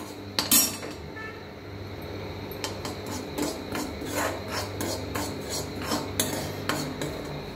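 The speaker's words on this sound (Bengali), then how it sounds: "সুজিটাকে ভাজছি, একটু লাল লাল হলে সুজিটা আমি নামিয়ে নেব।" Semolina is fried and stirred in a pan for papaya payesh, heard as a quiet, irregular scraping and rasping of a utensil against the pan with scattered clinks, fairly close and without talk.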